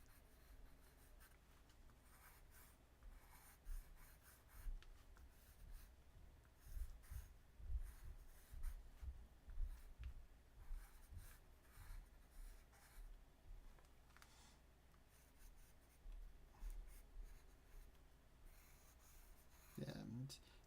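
Pencil sketching on paper makes a soft, continuous scratching and rubbing at low volume, with quick strokes throughout and faint voice-like sounds in the background.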